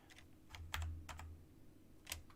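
Computer keyboard keys, shift and arrow keys, pressed in a few quick separate taps with short pauses, close and fairly quiet over a low hum, no talking.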